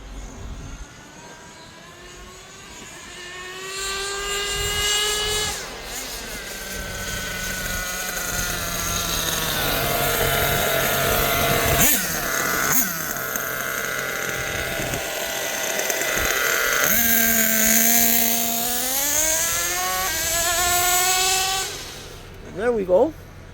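A Kyosho USA-1 nitro RC car engine screams at high revs, its pitch sweeping upward and then dropping as it shifts gears, loud and close throughout, with a brief lull and sharp bursts near the end.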